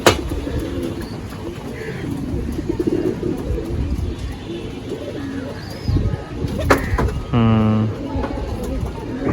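Pigeons coo in a loft, their soft repeated calls rising over the birds' rustling and general background, with people talking quietly nearby throughout.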